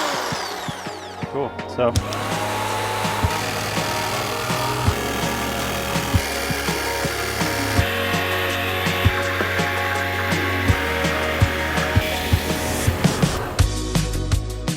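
Power tool cutting a hole in the metal roof of a Ford Transit bus conversion, close and loud, with a steady buzzing rasp and rhythmic stuttering strokes; someone speaks briefly at the start.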